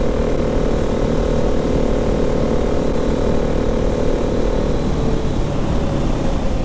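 KTM 690 Enduro R motorcycle cruising in sixth gear, a steady loud single-cylinder engine drone with continuous wind rush, even and unbroken throughout.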